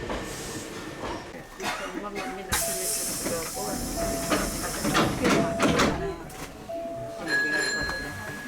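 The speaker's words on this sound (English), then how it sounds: "The train departs from Katsura Station." A Hankyu 6300 series train departing Katsura Station on the Arashiyama Line in Kyoto: hissing air, rail rumble and a steady tone as the train pulls away, with talking over it throughout.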